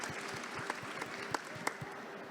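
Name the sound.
audience applause at a poetry event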